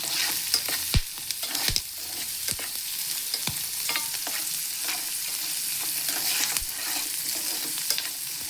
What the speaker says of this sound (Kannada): ನೋಡಿ, ಚಟಪಟ ಹಿಂಗೆ ಹಾರ್ತಾ ಇದ್ದಾವಂತ.